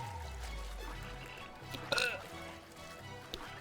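A character's burp in The Legend of Zelda: Breath of the Wild, a short throaty belch about midway through. It is faint and sits over a low background rumble.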